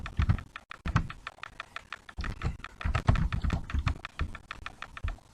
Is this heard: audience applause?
no